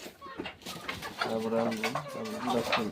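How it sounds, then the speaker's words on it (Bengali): Chickens cluck and call on a small poultry farm in short, close, irregular bursts over a steady background, with a voice audible at times. "এই দেখেন এই কটা মুরগি আছে আমার ফার্ম খালি, আবারও আনবো।"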